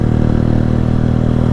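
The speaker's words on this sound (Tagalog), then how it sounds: "May motor ah. Motor lang naman single." A single motorcycle rumbles past on a road near Camp Mahogany, its engine loud and close with a steady pulsing throb.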